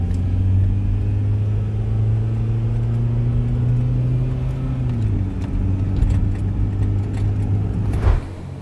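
Kia Sorento fitted with a hybrid turbo on a road test, a steady low engine drone and road rumble from inside the cabin, shifting pitch midway, with a brief clunk near the end.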